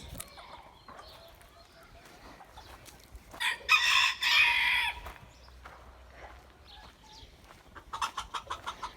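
Hens, including a black hen, cluck and a rooster crows loudly in the middle, followed by a rapid series of short clucks near the end, with faint farmyard background.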